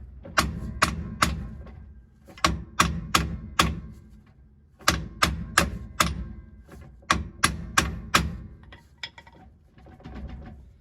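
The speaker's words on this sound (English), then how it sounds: "I'm just gonna keep hitting it, and I'm gonna get a bigger hammer." Sharp metallic hammer blows on a stuck part of a Ford rear axle ring out in quick bursts of three to five strikes, separated by short pauses, loud and close.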